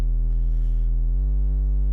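A pure, steady sine-wave oscillator tone from the Serum 2 synthesizer, with a smooth pitch glide partway through, clean and sustained with no other sounds.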